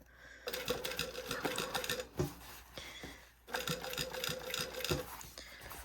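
Sewing machine top stitching on a lining being bagged and finished, running in close, rapid bursts with brief pauses between runs and a few louder clunks.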